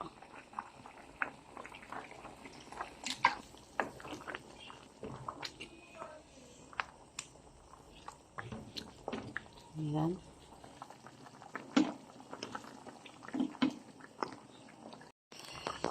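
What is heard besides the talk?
pot of meat stew boiling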